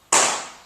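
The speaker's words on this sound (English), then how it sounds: "We're ignoring the gunshots too at the moment." A single sharp gunshot crack in the background, loud and sudden, followed by a short fading echo.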